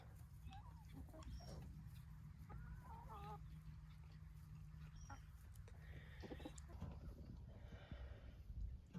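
Chickens clucking faintly on a rural farm beside watermelons and pumpkins, with scattered soft calls over low outdoor background noise and no one talking.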